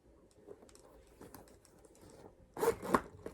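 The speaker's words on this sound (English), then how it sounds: "There is a zip inside" Zipper on the inner pocket of a Dior saddle bag, a short quiet scrape then a louder quick rasping pull near the end, close up with no talking.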